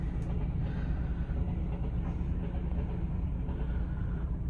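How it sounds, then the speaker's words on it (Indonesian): A Penataran train hauled by a red locomotive rolls past between Ngunut and Rejotangan, a steady low rumble of wheels and engine sustained throughout, heard from a moving vehicle. "Pas nih ada kereta nih. Loko merah cuy. Penataran."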